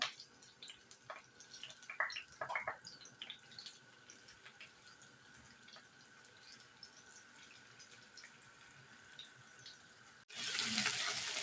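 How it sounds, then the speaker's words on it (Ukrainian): Flour-dusted liver frying in a skillet: light scattered crackles and pops at first, then a sudden loud, steady sizzle near the end, with no talking. "Викладаємо нашу печінку смажитися на сковорідку."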